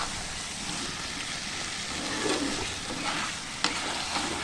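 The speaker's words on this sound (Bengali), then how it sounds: "মশলাটা একটু কষুক এখন" Spices sizzle and fry in a pan for aloo dum with peas, a steady crackling hiss close by, stirred now and then, with one sharp clink near the end.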